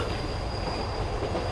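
A train rolls along rails with a close, steady rumble and a thin high squeal from the wheels, continuous and without voices.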